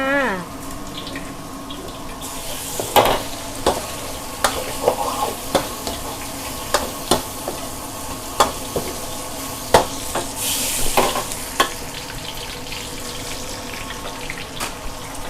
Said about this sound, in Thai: ใส่น้ำมันลงไป กระเทียมลงไปเหมือนเดิมค่ะ